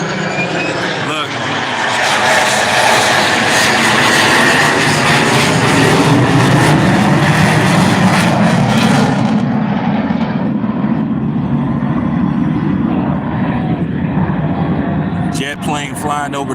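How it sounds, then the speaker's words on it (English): A jet plane roars low over the Oakland Coliseum during the A's last game, a loud, sustained broadband rumble that swells and then recedes, with the crowd noise of the stadium underneath it. "jet plane flying over the Coliseum."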